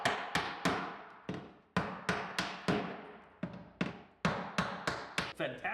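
Hammer strikes on roof shingles during a roofing installation, landing as a close, sharp series of about a dozen irregularly spaced blows, each ringing briefly before the next.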